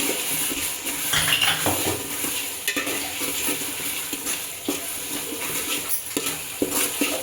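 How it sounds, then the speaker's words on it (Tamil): Ginger garlic paste stirred in a pot while cooking biryani, a spoon scraping and clinking against the metal with an even rhythm over a faint sizzle, close and alone. "இஞ்சி பூண்டு பேஸ்ட்டு போட்டு ஒரு லைட்டாக ஒரு கிண்டிட்டா அடி பிடிக்காமல் இருக்கும்"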